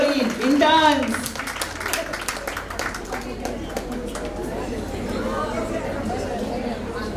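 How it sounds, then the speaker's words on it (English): An audience at a dental college's inaugural event claps and chatters for the interns. A short burst of close applause is followed by scattered clapping and crowd murmur under ongoing talk. "Big round of applause for them."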